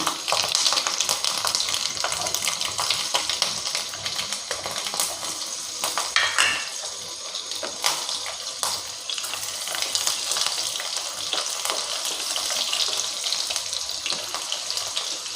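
Dried fenugreek and mustard seeds fry in oil in a pan with a steady, hissing sizzle that runs throughout, broken by a few sharper crackles and pops.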